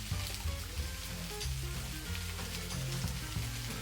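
Coriander leaves cooking in a covered pan give a continuous soft sizzle with faint bubbling and a few light stirring clinks, steady and close, with no talk.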